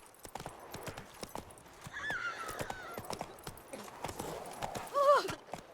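Geralt's horse Roach, in the video game The Witcher 3, trots with rhythmic clip-clop hoofbeats. A whinny sounds near the end and a voice speaks briefly.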